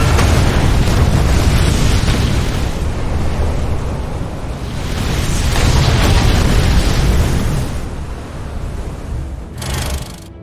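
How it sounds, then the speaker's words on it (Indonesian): Cannon fire and a ship explosion in a naval battle scene from the film The Admiral, a heavy roaring rumble that swells, dips and swells again before fading, with a short sharp burst near the end. "Ledakan tersebut sontak membuat semuanya kaget, karena Laksamana berhasil menenggelamkan semua kapal musuh dari batalion kedua"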